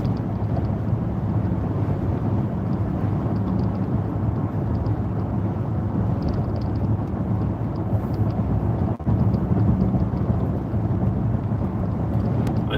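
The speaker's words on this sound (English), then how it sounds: "boring old Nebraska summer thunderstorm." A Nebraska summer thunderstorm near Kearney, Nebraska rumbles as a continuous low roll of distant thunder, steady and broad for the whole stretch with one brief sharper crack partway through, and no voices.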